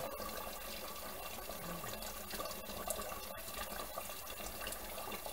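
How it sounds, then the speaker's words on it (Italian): Hot tap water runs steadily into a cooking pot, a constant rushing and filling noise with no pauses and no voices. "mettiamo l'acqua calda così risparmiamo sul, sull'energia elettrica"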